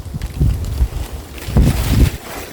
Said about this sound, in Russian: Ух, как ветер-то дует.